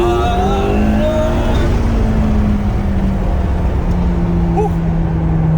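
A McLaren P1 rolls slowly, its engine giving a loud, steady low rumble with a droning tone, close and continuous inside the car.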